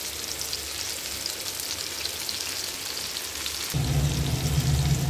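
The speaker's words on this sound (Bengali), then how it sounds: "মাছটা ভাজা হতে থাক" Hilsa fish sizzles in hot oil in a pan, a close, steady crackling fry that swells noticeably louder and fuller in its last second or so.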